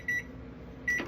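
An oven control panel gives two short, high electronic beeps about a second apart while bake is being set, heard close over a low kitchen hum.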